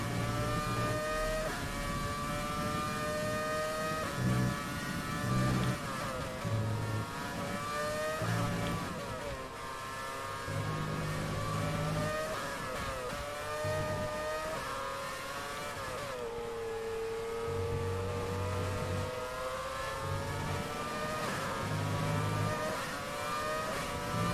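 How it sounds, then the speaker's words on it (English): Formula 1 car engines in the video game F1 2020, a continuous high-pitched whine rising and falling with gear shifts and acceleration, with other cars buzzing nearby throughout. "Do you miss this engine sound though?"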